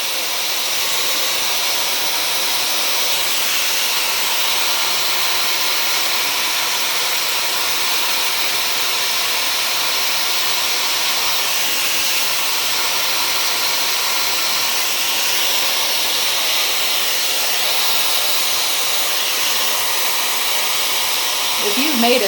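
Dyson hair dryer running with a diffuser attached, a continuous loud airy whoosh and hiss holding steady throughout without breaks.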